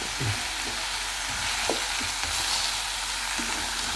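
Food frying in a pan at a home kitchen, with a steady broadband sizzle and occasional scraping stirs of a spoon against the pan, close and continuous.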